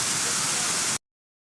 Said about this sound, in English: But a beautiful waterfall here.